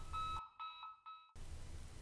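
Emergency alarm tone from a school evacuation and lockdown warning system: a clear electronic beeping with short repeated pulses, heard close and alone, with a steady background hum before and after.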